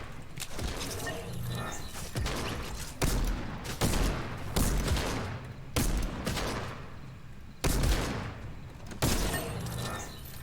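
Pistol gunfire in the video game Fortnite: sharp, punchy shots spaced about a second apart, mid-distance, among other game sounds and clatter.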